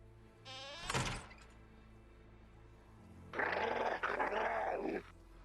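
Fortnite wolves growl in two bursts, a short harsh snarl near the start and a longer, louder rumbling growl later, close and clear with no talking.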